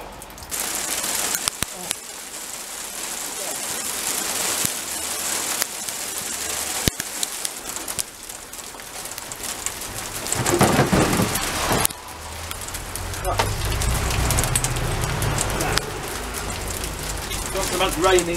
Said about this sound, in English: Not so much raining, but hailing.